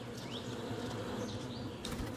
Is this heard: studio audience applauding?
no